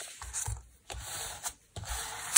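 Thin paper envelope folded for a junk journal cover, a few short close rubbing and creasing scrapes separated by brief pauses, no voices.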